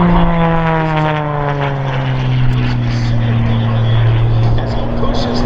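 An MXS-RH aerobatic propeller airplane performing at a 2023 air show gives a loud, continuous engine and propeller drone with a slowly falling pitch, heard under an announcer's voice.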